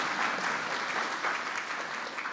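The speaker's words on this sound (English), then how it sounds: "It's okay to clap." Audience applause fills a hall during a talk about a girl's hospital surgery and return home to Kenya, a dense steady clapping from a sizeable crowd lasting a couple of seconds without any voices over it.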